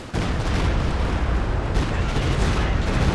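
Stuka dive-bomber barrage in Company of Heroes 2 lands as a dense, continuous rumble of heavy explosions and booms, loud and close, with no talk.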